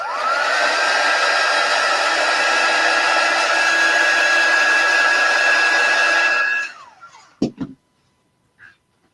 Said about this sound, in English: I'm just going to dry all of that real quick.